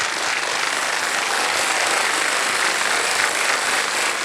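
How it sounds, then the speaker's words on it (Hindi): Studio audience applause on the stage of the KBC game show, a dense, steady wash of clapping that stays loud and even for the whole stretch with no talk over it. "तालियां बज जाए इनके लिए।"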